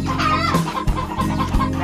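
Chickens cluck close by in short, repeated bursts, a busy stuttering chatter of fowl with a few sharper notes and no talking.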